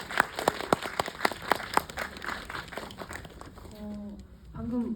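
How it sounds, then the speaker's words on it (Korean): An audience at a film talk event claps, sharp distinct handclaps for a few seconds that thin out and fade, followed by a brief bit of speech at the end. "박수 한번 부탁드립니다."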